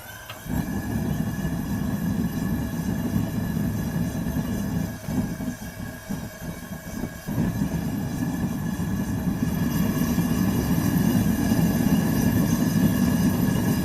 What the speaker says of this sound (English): And that's just one of the burners running.